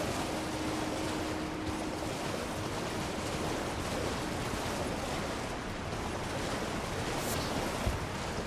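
A rushing waterfall inside the Elden Ring game, a steady broad roar of falling water holding level and unbroken throughout, with no voices over it.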